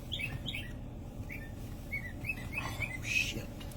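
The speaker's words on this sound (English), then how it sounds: "Even the birds are tweaking." Several birds chirp in short, high tweets scattered through the clip, fairly close and clear over a steady low background rumble.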